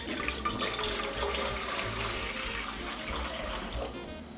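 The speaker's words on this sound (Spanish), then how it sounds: "vamos a iniciar poniendo en nuestra olla suficiente agua" Water pours steadily into a cooking pot being filled for boiling pasta, a continuous broadband rushing that stays loud and close throughout, tapering slightly at the end.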